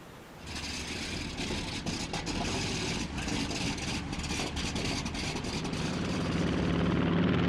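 The American bomber Enola Gay, a propeller aircraft in 1945, roars steadily as its engines drone on takeoff, the rumble building slightly louder toward the end.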